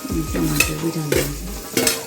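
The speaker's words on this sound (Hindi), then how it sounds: "टमाटर भी डाल देंगे।" Tomatoes sizzle in a frying pan as a utensil scrapes and stirs them in a few quick rhythmic strokes, close up, with no talking.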